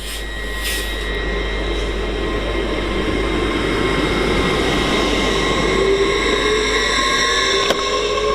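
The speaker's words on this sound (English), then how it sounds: "here we have 802304 leaving now for Hull" Hull Trains class 802 unit 802304 pulling out of Doncaster station, a loud, steady engine and traction drone with a pitch that slowly rises and a sharp click near the end.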